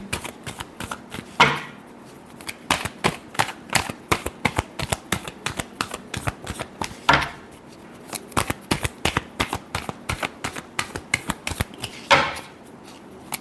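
Tarot cards being shuffled by hand: rapid, crisp riffling clatter repeating steadily throughout, with three louder sweeping bursts roughly every five to six seconds, close and clear with no talking.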